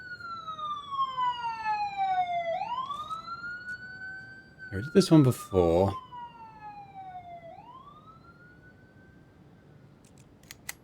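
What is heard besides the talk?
police siren in a video game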